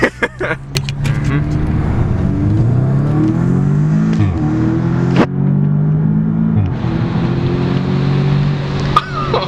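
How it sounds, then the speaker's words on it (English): An Audi S3 engine with an upgraded turbo inlet pipe revs up and down repeatedly, loud and close, with a rising turbo whine and whooshing release between pulls. "He just did it for turbo noise."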